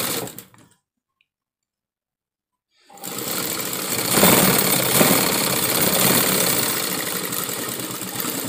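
A sewing machine stitches a sleeve with a steady, continuous mechanical whir that starts after a few seconds of silence and runs unbroken to the end, close and fairly loud.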